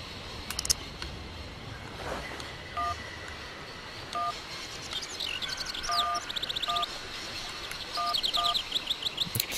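Telephone keypad being dialed in the adventure game Syberia, a series of short electronic DTMF beeps in irregular pairs and runs, with faint chirpy game ambience underneath and no speech.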